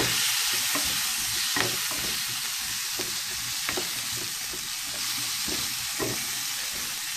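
Garlic for a pepper and crème fraîche rice dish sizzles loudly in a pan as a utensil stirs it, with a bright constant hiss and a string of regular scraping strokes.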